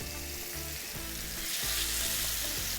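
Tandoori chicken tikka sizzles in a grill pan while it chars. The frying hiss is close and continuous, laced with small crackles and pops, and no one speaks over it.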